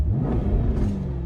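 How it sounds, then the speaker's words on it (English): Exhaust of a Jaguar F-Type heard from inside the cabin, a loud, deep, throaty rumble that swells and settles without a break and with no talking. "I'll just finish with the controls by showing you the sound of the exhaust from inside the car here"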